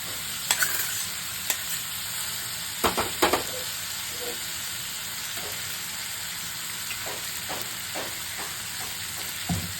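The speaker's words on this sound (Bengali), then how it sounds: "এবারে এতে দেব এই মোড়ালা মাছ লোহার কড়াতে ভেজে রেখেছি" Fried mourala fish tipped into black-cumin-coated fried potatoes in an iron wok, with a steady low sizzle broken by a few sharp clattering knocks and scrapes of stirring.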